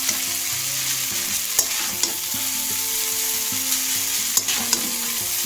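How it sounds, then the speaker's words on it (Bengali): Chow mein stir-frying in a pan, loud steady sizzling with occasional sharp clanks and scrapes of a spatula, and a low musical hum running underneath. "নেড়ে নেব, তাহলে আমার টেস্টি টেস্টি চাউমিন রেডি।"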